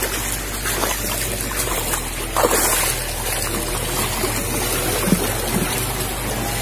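Floodwater runs along a muddy road through a flood-hit area of Masamba, a steady rushing trickle and gurgle of moving water throughout, with faint background noise and no talk.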